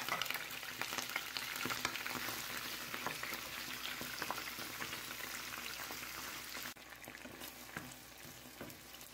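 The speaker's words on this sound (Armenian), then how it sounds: "Թավայի մեջ ավելացնում ենք բուսայուղ և" Spinach fries and crackles in vegetable oil in a pan, a continuous close sizzle with stirring scrapes, dropping slightly in level near the end, with no speech.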